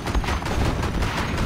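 Dense, continuous gunfire pours from a unit shooting through a window in C&C Generals, a rapid loud fusillade with heavy low rumble and no pauses.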